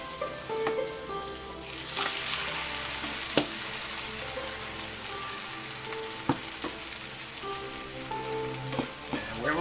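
Egg foo young pancake sizzling steadily in a hot pan after being flipped, a bright crackling hiss that swells after a couple of seconds, with occasional sharp clicks and taps from utensils, no talking.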